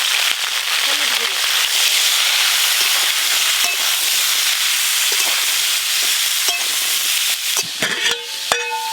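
Mixed vegetables fry lightly in a pan for khichuri, giving a steady close sizzle with some crackle. Scattered scrapes and clatters grow busier near the end.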